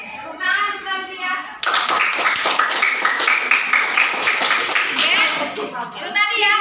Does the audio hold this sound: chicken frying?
no